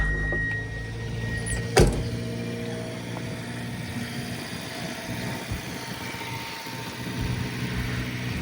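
A used car fires up with a short sharp crank burst, then settles into a steady, low engine idle that continues evenly and close by, with no talking.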